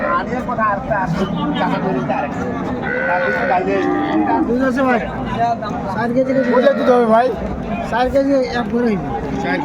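At a busy rural cattle market in Dinajpur, cows and calves low and bleat now and then, half buried under loud, continuous chatter and bargaining voices close by.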